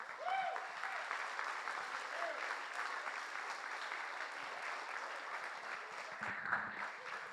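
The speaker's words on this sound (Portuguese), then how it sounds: "Você pode aplaudir ao Senhor?" A church congregation applauds during a worship service, steady dense clapping through the whole stretch, with faint voices and a few cheers rising over it.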